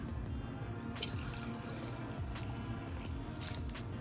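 Water poured into a container holding a cleaning wipe while an action figure is washed, a steady close trickle and splash with a few sharper drips, no talk.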